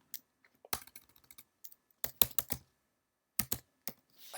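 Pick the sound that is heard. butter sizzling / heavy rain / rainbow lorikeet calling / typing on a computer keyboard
typing on a computer keyboard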